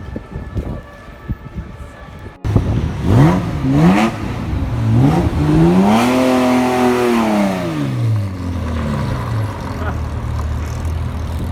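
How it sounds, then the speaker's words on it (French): A Lotus Esprit Turbo sports car arrives at a classic car gathering, its engine revving loudly and rising in pitch before settling into a sustained, near drone. "Alors une nouvelle arrivante, superbe Lotus Esprit Turbo."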